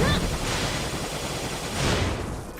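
A gun-based Deluge of Stars attack in Like a Dragon: Infinite Wealth fills the whole moment with dense, continuous noise, a steady barrage of firing and impacts with a brief louder surge near the end.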